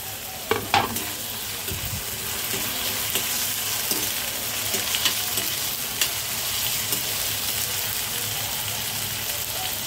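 Onion and tomato fry in a hot pan for a shevla (dragon stalk yam) vegetable dish, giving a close, continuous sizzle with scattered crackles and stirring scrapes throughout.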